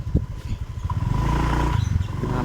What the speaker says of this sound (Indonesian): saya giring dari gas awal pertengahan